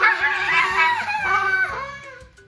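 A man imitates a hyena's call with his voice, a short run of warbling, yipping howls that tails off.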